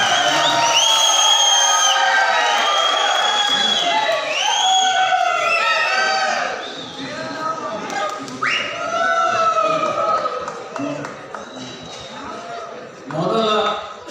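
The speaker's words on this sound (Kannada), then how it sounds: "ಈ ಕೇಕೆ ಬಹಳ ಸುಂದರವಾಗಿದೆ" A large crowd at a folk dance performance whoops and cheers, with many high rising shouts overlapping near and far. The noise dips briefly and then surges again, and people talk throughout.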